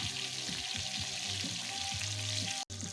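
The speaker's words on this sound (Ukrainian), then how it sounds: "М'ясо стало жариться." Meat fries in a pan made from a harrow disc, giving a dense, steady sizzle up close. Rhythmic scraping strokes of stirring run through it, with no talking.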